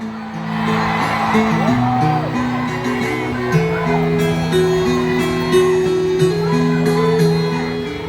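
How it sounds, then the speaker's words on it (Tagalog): A large crowd at a Davao anniversary celebration shouts and cheers in a loud, sustained roar, with whoops and rising yells over amplified voices. "Isang malaking sigaw!"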